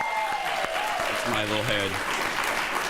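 A studio audience on a talk show claps in a steady wash of applause, moderately loud and continuous, while someone speaks over it.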